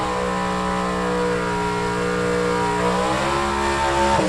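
A 1962 Chevy II gasser race car in B-Gas drag racing qualifying roars steadily and loud, its engine note holding then shifting upward in pitch as it accelerates near the end.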